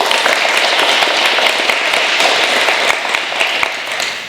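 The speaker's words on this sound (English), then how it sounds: "If we could give all of those students a round of applause, please." An awards-day crowd claps for students in a steady, loud burst of many hands that eases off slightly near the end.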